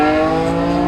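A BMW E46 M3 engine screams at high revs near 8,000 RPM in second gear, a loud steady harmonic whine held close for a moment, heard through open windows.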